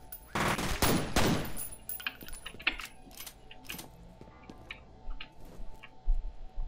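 Double pistols firing in the video game F.E.A.R., a rapid flurry of loud, sharp gunshots at the start, followed by scattered lighter clicks and impacts.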